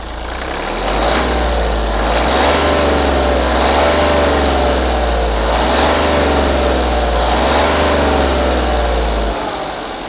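A Mahindra Bolero Neo N11 diesel SUV engine runs steadily and loudly through the cabin, with a deep low rumble and gentle rises in revs as the vehicle drives off, then cuts near the end.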